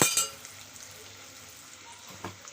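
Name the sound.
paneer frying in a pan with turmeric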